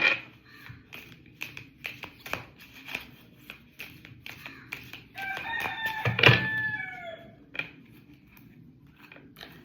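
A rooster crows once at mid-distance, a strained rising call, amid scattered clucks, taps and light rustling from a farmyard.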